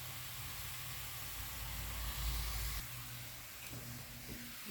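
Water poured into a hot pan of fried pork while cooking pochero, giving a steady close hiss of steam and sizzle that swells briefly and then settles to a softer bubbling.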